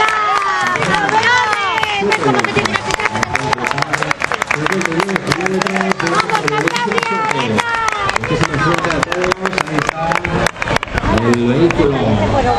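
Crowd at the start of a school-age cycling championship race in Caspe, clapping steadily and densely throughout, mixed with cheers and a loud voice shouting over the applause.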